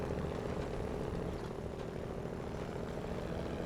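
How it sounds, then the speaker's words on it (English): Kenworth truck engine in SnowRunner video game, a continuous low rumbling drone held steady and fairly quiet throughout, with no talking. "it sounds like a proper truck"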